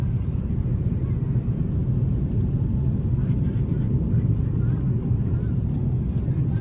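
A SriLankan Airlines airliner descends to land on the runway on arrival in Colombo, its steady low engine roar heard from inside the cabin, loud and constant throughout.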